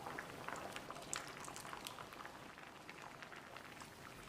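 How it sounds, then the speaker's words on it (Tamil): Sodhi kulambu, a Tirunelveli coconut-milk curry, bubbles at a steady boil in a pot, a dense crackle of small pops and fizzing that runs continuously, fairly close and moderately loud. "இது கொதித்து வந்துடுச்சு"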